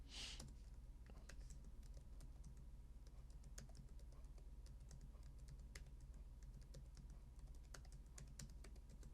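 Typing on a computer keyboard while entering data into an Excel spreadsheet: a steady, continuous run of quick, light key clicks, close but faint over a low background hum.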